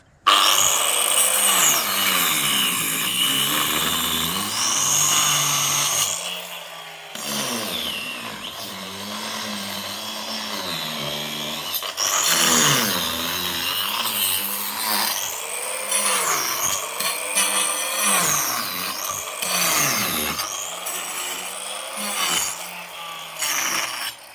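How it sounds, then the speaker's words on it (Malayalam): A concrete cutter with a blade slices into concrete, its high motor whine rising and falling in repeated sweeping arcs as the blade bites and eases off, loud and close for the whole stretch. "കോൺക്രീറ്റ് കട്ട് ചെയ്യുന്ന സാധനം കൊണ്ടാണ്, ബ്ലേഡ് കൊണ്ടാണ് കട്ട് ചെയ്യുന്നത്"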